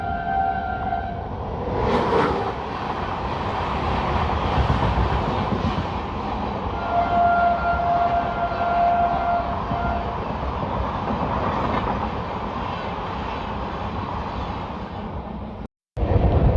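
Swaraj Express approaching at speed on an Indian railway line, heard from a passing LHB express train: a loud, continuous rumble with clattering wheels and a brief horn-like tone early on, ending with a sharp cutoff.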